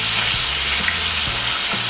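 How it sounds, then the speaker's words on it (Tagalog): Pork browns and sizzles in a frying pan for a sautéed beans-with-pork dish. A steady, dense crackle of hot oil runs the whole time, with a few soft stirring clunks underneath. There is no talking. "ipapa-brown ko po muna tong ating pork"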